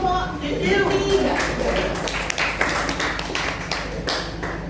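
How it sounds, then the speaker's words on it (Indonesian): Classmates clap for a student group after a school presentation, scattered, uneven hand claps close by, mixed with some voices and tapping, fading into looser individual claps toward the end. "terima kasih tepuk tangan untuk kelompok 3"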